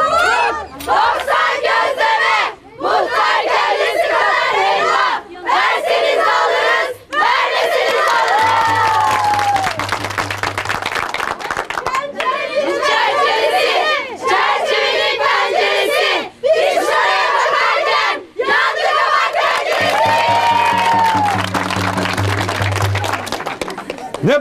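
Crowd of people shouting loudly and continuously for a long stretch in Bolu, with cheering voices and short pauses between bursts, dense and close, mixed with a voice speaking Turkish.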